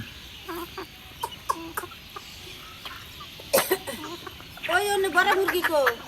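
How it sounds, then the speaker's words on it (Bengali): A small backyard flock of about eleven hens and a rooster clucks in short, scattered bursts, with a brief rooster call near the end, heard close and intermittently among people talking. "এগারোটা আছে আর মোরগ আছে"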